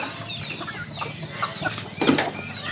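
Free-range chickens clucking softly around a farmyard, with a slightly louder burst of fowl calls near the end over steady low background noise.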